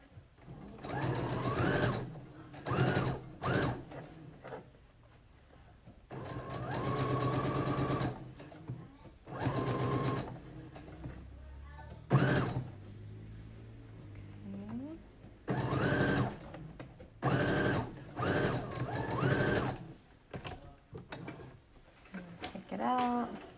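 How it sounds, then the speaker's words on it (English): A sewing machine stitches a reusable fabric mask in several steady whirring bursts, stopping and starting, with someone talking between and over the runs. "put it in my machine just like that, and I'm going to sew this down."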